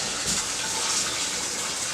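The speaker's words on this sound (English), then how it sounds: "So just going to run some water in there." Tap water gushes steadily into a pot of roasted beef bones for stock, a loud, close, continuous rushing pour with no pause.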